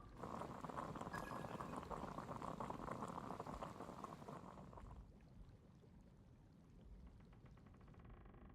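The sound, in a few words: water boiling, from the video game Genshin Impact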